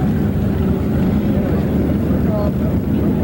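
A 32-foot Skater powerboat in a 1987 race roars past on open water in a loud, continuous, low-pitched engine drone, buffeted by wind noise and overlaid with commentator speech.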